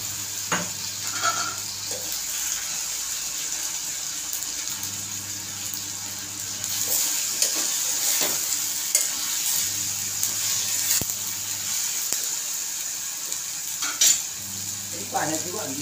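Potatoes sizzle steadily in oil in a pressure cooker while a spoon stirs and scrapes now and then, close and moderately quiet, with a low hum coming and going underneath.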